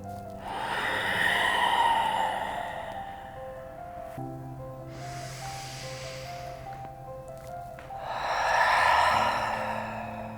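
Slow, deep breathing during a vinyasa yoga practice: a long, loud breath that swells and fades, a quieter breath through the middle, then another full breath near the end, all over soft sustained background music with no talk.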